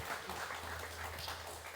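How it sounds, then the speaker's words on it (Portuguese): Church congregation applauding in worship, a dense wash of clapping from many hands, fairly soft and continuous for a brief moment. "Vamos aplaudir Jesus, irmãos."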